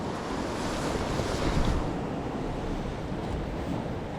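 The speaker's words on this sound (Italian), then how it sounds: "Le onde ormai si fanno sentire soltanto in pochissimi punti" Stormy sea waves washing onto the Italian shore during a swell, a steady loud rushing surf with wind buffeting the microphone and a swelling surge midway, with no speech.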